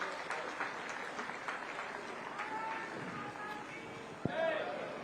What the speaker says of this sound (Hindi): देवियों सज्जनों जोरदार तालियां हो जाए माननीय मुख्यमंत्री महोदय के लिए